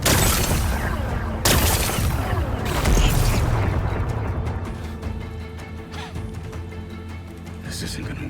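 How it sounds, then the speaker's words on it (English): Explosions blasting away rocks in Horizon Forbidden West: a loud, dense rumbling burst with booming impacts and crumbling debris, tapering into a lower roar, with a voice talking over it. "It's exploding."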